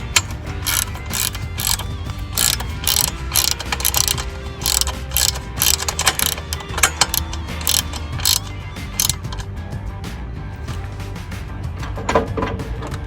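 Quarter-inch stainless steel bolts with nylock nuts being tightened on a boat skeg prop guard using a 7/16 socket ratchet and box-end wrench; dense, rapid ratchet clicking runs nearly continuously and close up, with brief pauses.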